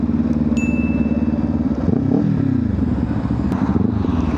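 Kawasaki Ninja 500 motorcycle being ridden, a continuous close engine drone that rises briefly in pitch midway, with a short high whine near the start.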